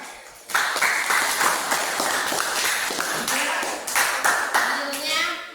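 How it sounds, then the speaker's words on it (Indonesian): Classroom clapping for a student at an Indonesian school breaks out abruptly and continues as a lively, fairly loud round of hands, with a voice speaking near the end. "Oke, sambut Tasya, tepuk tangan."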